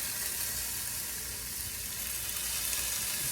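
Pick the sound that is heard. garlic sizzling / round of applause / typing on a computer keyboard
garlic sizzling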